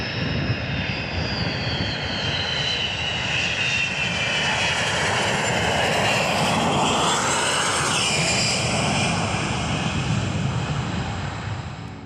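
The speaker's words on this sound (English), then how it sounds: "That was the nostalgic sound of an 8-squadron E3D Sentry landing at RAF Waddington." An RAF 8 Squadron E-3D Sentry jet comes in to land at RAF Waddington, its engines a loud, steady roar with a sweeping whine rising and falling as it passes close by. No one speaks.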